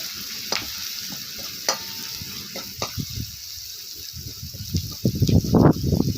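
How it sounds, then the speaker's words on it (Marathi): Garlic and coconut sizzling in a hot pan with a spoon stirring and scraping at intervals, the crackle swelling louder near the end. "आता हे लसूण खोबरं जे आपण पेचलेलं आहे ते चांगलं परतून घ्यायचे"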